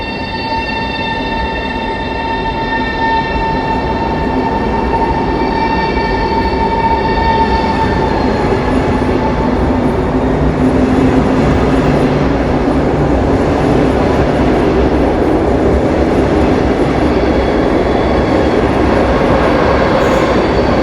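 A Polish luxury express train pulls away from a station platform, a loud, steady rumble of wheels and rail noise with high tonal whines and squeals running throughout, no voices.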